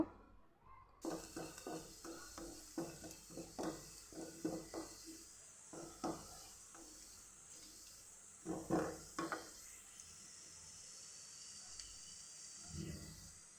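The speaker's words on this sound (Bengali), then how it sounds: "এভাবে নাড়াচাড়া করে আমি আরেকটু লালচে করে ভাজবো" Oil in a pan as ingredients are stirred and fried until reddish before spinach goes in, giving quick scraping spatula strokes in bursts over a soft continuous hiss, with a few pauses.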